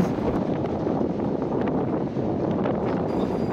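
Strong wind on Iceland's South Coast gusts through the hollow interior of an old plane wreck, a dense continuous roar buffeting the microphone without pause.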